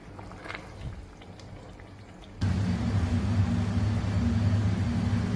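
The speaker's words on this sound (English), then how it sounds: "Then we are going to add our blended tomato inside, and then we are also going to leave it to simmer." A pot of blended tomato jollof sauce, quiet at first, then a sudden steady bubbling, sizzling hiss that holds loud and even to the end.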